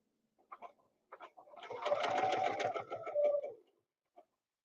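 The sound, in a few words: sewing machine stitching a quarter-inch seam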